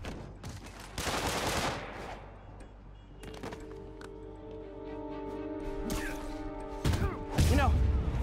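Bursts of gunfire from armed enemies in the Marvel's Spider-Man video game, short loud volleys and thuds scattered among other game sounds and music, with voices speaking between the shots.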